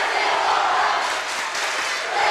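A gymnasium crowd at a school volleyball match, Alexander versus Athens in the fifth game, cheers and roars in a steady, loud wash of voices with no clear breaks.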